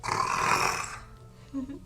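A voice actor imitates a monster's snarling roar, the sort a werewolf or big cat would make: one raspy, breathy growl swelling from a snore-like start and held for about a second, then a short low grunt.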